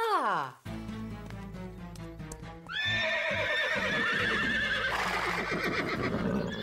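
Cartoon horses whinny loudly on a ranch, a high descending neigh first, then clopping hooves and more shrill neighing over a busy, music-like background.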